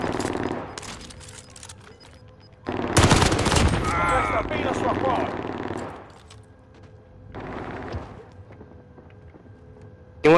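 Bursts of gunfire from Call of Duty: Modern Warfare, loud sustained automatic fire with overlapping shots through the middle of the clip, a later quieter burst, and a spoken voice early on.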